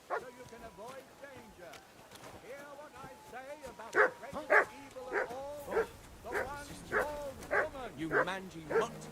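A dog in the video game Kingdom Come: Deliverance 2 barks repeatedly in a steady rhythm, sharp mid-pitched barks with some yips, close and clear after someone speaks briefly.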